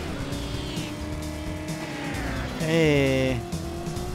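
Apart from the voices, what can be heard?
car driving and tires squealing in video game Driver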